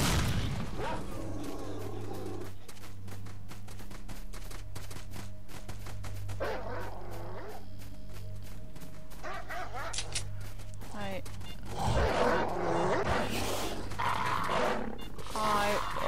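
A dog in the video game Lost Alpha barks and whimpers in repeated bursts against a steady low game drone, with a voice talking over parts of it.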